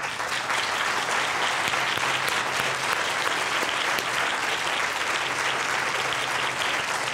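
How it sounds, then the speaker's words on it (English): An audience at a breast cancer research event applauds students, with steady, dense clapping that fills the room evenly from start to finish. "they can stand up and we can give you a round of applause"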